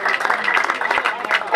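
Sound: applause

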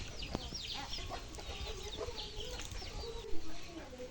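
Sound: chickens clucking

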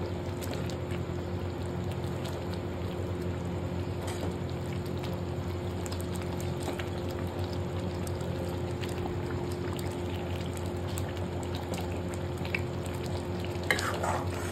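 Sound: stirring Kashmiri dum aloo mixture in a pan

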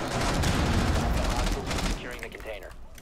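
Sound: gunfire in Rainbow Six Siege video game

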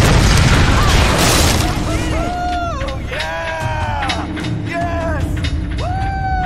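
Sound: explosion in Tomb Raider video game

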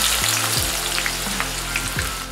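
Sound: chopped onions frying in very hot white oil

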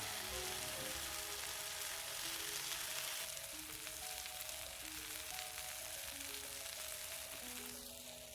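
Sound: meat frying

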